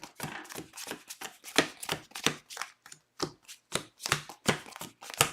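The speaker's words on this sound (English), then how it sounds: "And then let's just shuffle everything together." Playing cards for a Hawkeye board game being shuffled and riffled together, a run of quick crisp bursts of flicking card noise repeating in a steady rhythm, close and fairly loud with no talking.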